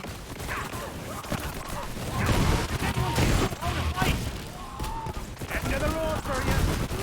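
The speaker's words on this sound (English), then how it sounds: "those lasers from this SMG though are so good. They just melt shit." Rapid SMG laser fire in the shooter game Borderlands 3, a dense crackling barrage of shots with overlapping game effects, continuous across the clip and moderately loud.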